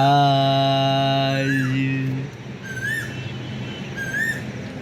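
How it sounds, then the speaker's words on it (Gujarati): An Asian koel calls on a morning outdoors, giving rising whistled notes that repeat about once a second, faint and somewhat distant. A loud steady horn-like drone plays over the first two seconds. "મસ્ત કોયલ બોલી રહી છે।"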